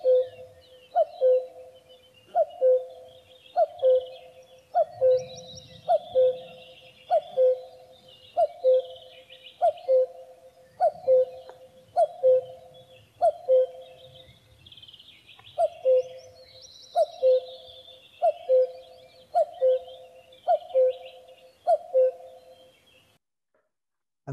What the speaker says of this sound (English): It's 2 perfectly clear notes that form a minor third in musical terms between them. And it's cuckoo, cuckoo.